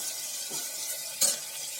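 Onion, green chili and a single tomato sautéing in a pan for mutton kurma, a soft steady sizzle with a brief stirring scrape partway through, close and fairly quiet.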